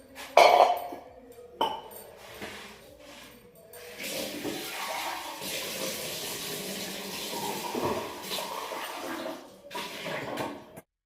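Dishes and utensils clink and clatter as they are washed under running water, with a sharp clank near the start followed by steady splashing and intermittent knocks.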